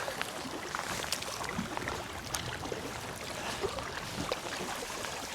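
Kayak paddle strokes dipping and splashing on the water at Manor Park, a close, irregular series of soft sloshes and drips with no talking.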